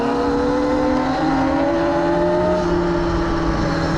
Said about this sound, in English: The knobby tires are definitely add some sound. These are the stock Mototech tires.